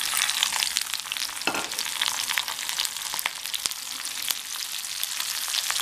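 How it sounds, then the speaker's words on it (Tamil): Crushed shallots frying in hot oil with spluttered mustard seeds for a brinjal pickle, a steady close sizzle with sharp crackles and pops throughout, no voices. "இந்த எண்ணெயிலே கடுகு கடுகு வந்து பொரிஞ்சிருச்சு இதில் சதச்சு வச்சுருக்கிற சின்ன வெங்காயம்"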